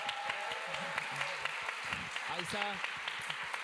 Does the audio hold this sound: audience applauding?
yes